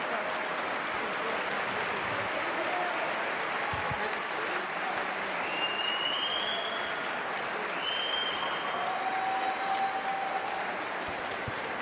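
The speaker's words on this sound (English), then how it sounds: "Crowd giving their team a rightful, appreciative welcome to the floor." Basketball crowd at a FIBA Women's EuroBasket qualifier, Serbia against Ukraine, applauding its team's welcome to the floor, a steady roar of clapping in a large arena with faint whistle-like tones rising above it.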